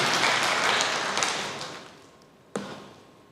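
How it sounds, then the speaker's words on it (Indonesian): A church congregation applauds, a dense wash of clapping that swells at first and then fades away, ending in one sharp isolated clap. "Berikan tepuk tangan yang meriah buat Tuhan."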